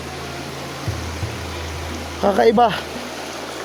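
A small stream of water flows with a soft, continuous trickle beneath a low steady hum, while a person speaks a brief word near the end.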